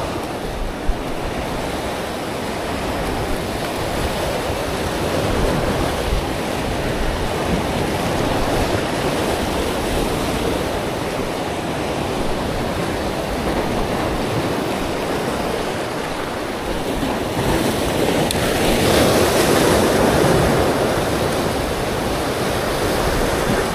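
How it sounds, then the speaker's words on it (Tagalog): Steady roar of wind and breaking waves at sea from a fishing boat out after bluefin, loud and continuous for the whole stretch with a slight swell in intensity near the end; no voices. "Hangin na naman."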